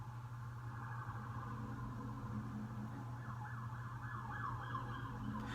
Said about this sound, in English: there are definitely going to be police cars just speeding past your window.